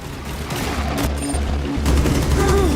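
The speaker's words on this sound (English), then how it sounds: "nearly doubled the damage output of Finka's 6P41 LMG" Finka's 6P41 light machine gun fires unsuppressed in the video game Rainbow Six Extraction, a steady rapid burst of heavy automatic shots that runs loud and continuous throughout.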